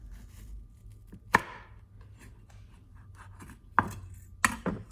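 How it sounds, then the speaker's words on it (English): A knife chopping down through vegetables on a cutting board while making a sandwich, a few sharp, separate thuds spaced apart, close and clear against a quiet background. "you would be chopping down like this"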